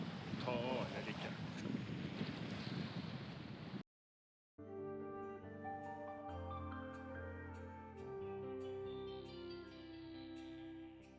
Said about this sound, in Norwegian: Så her er det litt vind